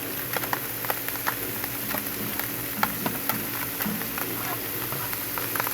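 Turkey sizzling on a Blackstone griddle, a steady broadband crackle and hiss with scattered pops, close and fairly quiet, with no talk over it.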